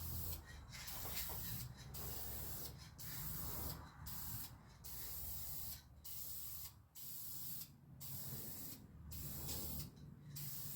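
A spray can with a regular nozzle paints a Norton motorcycle part in a cold shop, giving close, steady hissing bursts broken by about ten short pauses in a fairly even rhythm.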